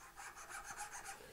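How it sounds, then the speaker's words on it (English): Steady rasping strokes of a hand file on wood while cleaning the inside edges of a houndstooth dovetail joint, a regular back-and-forth scraping rhythm, close and continuous with no talk. "I'm just going to use the file, and I'm going to hit all of the inside, all of the edges that are no longer visible."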